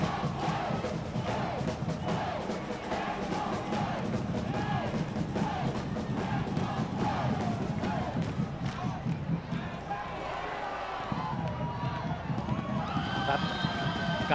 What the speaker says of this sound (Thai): กลับมามีชีวิตชีวานะครับกองเชียร์ของแบงคอก